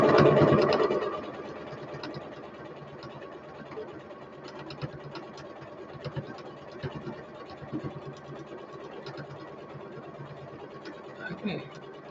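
Home sewing machine stitching fabric during a chatty sewing session, a low steady mechanical whir with faint rhythmic ticks, fairly quiet throughout, after a louder start; a voice speaks over it.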